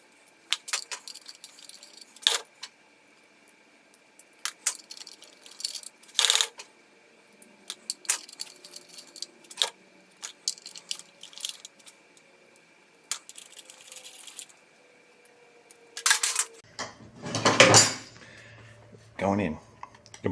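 Metal clinks, taps and scrapes while the oil strainer is removed from a 1958 Volkswagen engine, with small parts rattling and a louder jangle of washers near the end.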